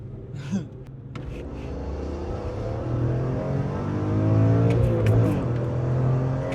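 BMW M3 E46 engine accelerating, a close, loud rising growl that builds steadily through the gears with a smooth, climbing mechanical tone, heard from inside or near the car with no talking.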